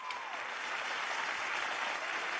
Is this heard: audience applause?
yes